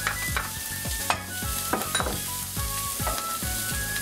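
Shiitake mushrooms sizzle steadily in a hot pan while a utensil scrapes and stirs them in repeated strokes, close and clear, with no talking.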